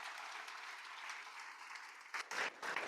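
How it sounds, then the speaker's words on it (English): Faint, steady audience applause at a library author event, a soft continuous patter of many hands with a few louder, closer claps near the end. "let's give them a quick round of applause for their generosity."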